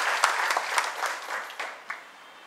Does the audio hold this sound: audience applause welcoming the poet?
yes